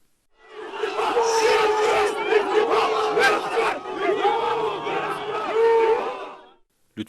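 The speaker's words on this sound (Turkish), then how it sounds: "Özgür Özel'i yuhalayan ve ıslık çalarak protesto eden vatandaşlar, Lütfü istifa sloganları attı" Crowd of protesters in Hatay booing, whistling and chanting slogans against a politician, a loud, dense mass of shouting voices with shrill whistles cutting through, sustained and close.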